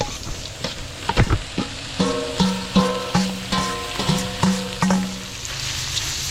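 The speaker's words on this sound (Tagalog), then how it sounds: "So ito, igigisa natin sa patis." Garlic, onion and ginger sizzle in fish sauce in a hot pan at a catering kitchen, with steady frying hiss and a rhythmic series of sharp metal stirring clanks from a spatula.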